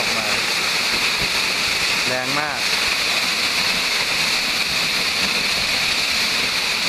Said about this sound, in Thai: ให้หันมาดูผมผมผมนะครับว่า ที่ยืนอยู่หน้าน้ำตกนะครับ